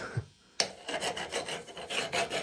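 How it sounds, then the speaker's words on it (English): A hand file rasps rust and corrosion off the handlebar of a 1980 Suzuki TS185 motorcycle, a close run of quick, gritty metal strokes after a brief pause. "So I'm actually going to use a file and"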